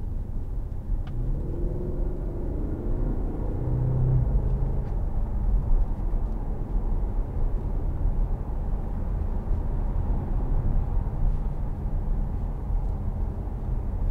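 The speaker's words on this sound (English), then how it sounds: "all you can hear is just a gentle purr of the engine" A 2015 Audi RS4 Avant 4.2 TFSI cruises on a smooth road, its engine a low, steady purr blended with road rumble and tire noise throughout, with a soft rise in revs near the start.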